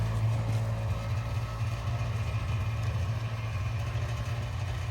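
A scooter engine idles steadily at close range in a snowy Kashmir valley, a continuous low rumble with no gaps and no voices.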